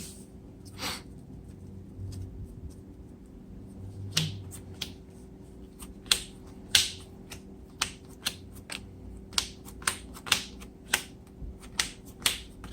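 A deck of Yu-Gi-Oh trading cards is shuffled at close range, sparse flicks at first and then a steady run of crisp, evenly spaced card snaps, with no talking.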